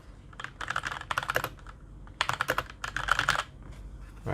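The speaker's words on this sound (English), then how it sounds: "the brown switches, it's certainly create more noise than an ordinary keyboard like this one" Typing on a Keychron K2 mechanical keyboard with brown switches, close and crisp, with bursts of rapid key clicks separated by short pauses.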